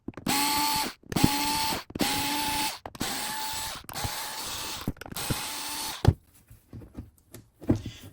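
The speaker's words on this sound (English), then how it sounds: "Next, we have a few more screws to remove." A powered driver backs out T8 screws from a Dyson Gen5 vacuum, six close, loud whirring bursts of about a second each in a steady rhythm, followed by faint clicks and handling noises.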